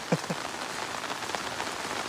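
Rain falls steadily on surfaces in the Konkan countryside, a dense, even patter heard close by, with a couple of brief low knocks at the start.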